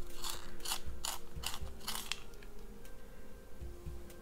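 A colored pencil is turned in a sharpener with repeated rhythmic grinding bursts, about eight strokes in quick succession, close and fairly loud, easing off toward the end.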